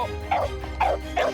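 Dog barks and yips come in three short bursts evenly spaced over a steady background hum, with the dog nearby and loud. It is probably the resident dog Enzo reacting to a cat being brought close.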